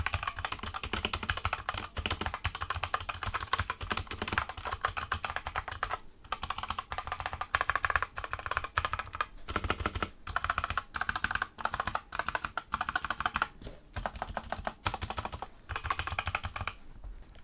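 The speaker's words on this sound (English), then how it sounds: "I'll do some typing out so you can hear what it actually sounds like." Typing on a Machenike K500 B61 budget 60% hot-swap mechanical gaming keyboard: a steady, close stream of clacky keystrokes with a few brief pauses, and no talking.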